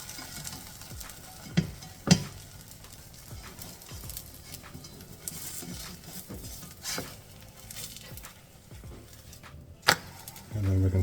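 Paneer keto wrap sizzles softly in a pan, a low steady frying hiss broken by a few sharp clicks and scrapes of a spatula, quiet and close.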